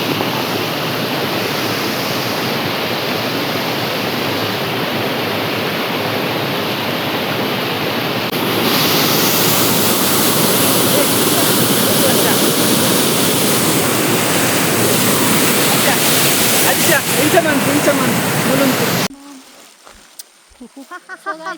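A waterfall roars as dense, steady broadband noise, loud and close, shifting slightly stronger partway through before cutting off abruptly near the end.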